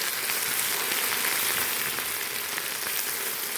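Greens hit a pan of chopped onion and garlic frying in oil, a dense continuous sizzle close by, loud and steady for the whole stretch with no talk.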